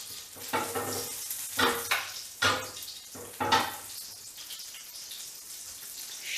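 Chicken dredged in flour frying in hot oil and butter in a pan, a steady crackling sizzle with several louder bursts of spattering, close up and alone.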